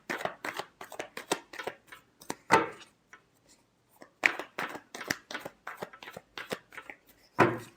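Tarot cards being shuffled by hand, heard as a run of quick, crisp riffling bursts with short pauses between them, close and fairly quiet, with no voices.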